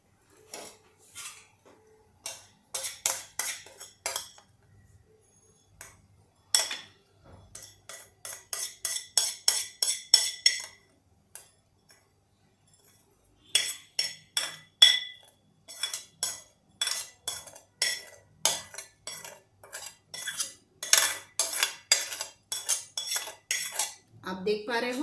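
A metal spoon scrapes and clinks against a kadhai while dry chana dal upma is transferred into a dish, coming in quick rhythmic bursts of scraping strokes separated by short pauses, close and clear with no voices.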